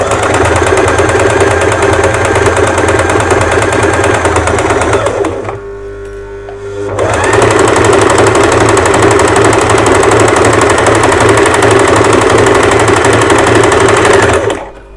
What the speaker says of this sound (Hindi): तो इसमें हम पहले सिलाई लगा लेंगे।